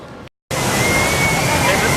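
Water roars and splashes on the Infinity Falls rapids ride, a loud, dense, continuous rush interrupted by a brief dropout before surging back, close and overwhelming.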